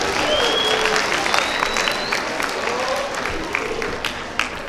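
An audience at a talk breaks into sustained applause, dense clapping and crowd noise held at a steady level from start to finish.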